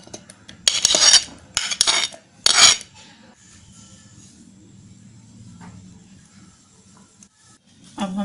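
Chopped mango pieces drop into a blender jar in a home kitchen as three loud, sharp clattering bursts close together, followed by a quiet stretch with faint handling noise.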